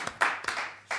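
A small fan club in a French TV studio claps in a few short, sharp bursts, close and sparse rather than a full ovation, with brief gaps between the clusters of claps.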